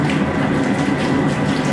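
Hot water gushes steadily and loudly into a plastic tote, a continuous rushing pour with no voices.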